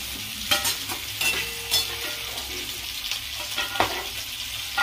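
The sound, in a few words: frying papad and onion flower fritters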